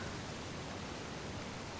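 A waterfall in the video game Uncharted: The Lost Legacy pours as a steady, even broadband rush, faint and constant throughout with no other sounds over it.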